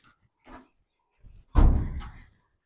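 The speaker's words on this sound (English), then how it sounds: "let me close this door" A door is pushed shut in a house, giving one loud, close thud with a short rattle after it, preceded by a few faint movement sounds.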